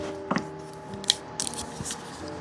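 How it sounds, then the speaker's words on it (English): Setting spray misted onto the side of a makeup brush in short bursts, quick hissy puffs with faint handling clicks, close and fairly quiet. "I am going to spray this side of the brush"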